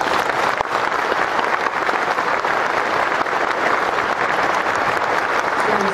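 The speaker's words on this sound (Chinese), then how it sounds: "让我们再一次给老师、小朋友以及背后辛苦的妈妈们最热烈的掌声。" Warm, sustained applause fills a concert hall at the 2012 Yushan Bank concert as the audience honours teachers and children, the claps thick and even from start to finish.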